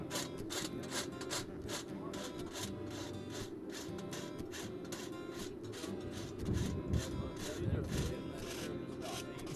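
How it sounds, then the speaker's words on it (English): A farrier works a rasp across the heel of a horse's hoof, shaping it at an angle, producing steady rhythmic rough strokes, closely spaced and fairly near, with a low murmur of background noise underneath throughout. "Every bit of that rasping is deliberate."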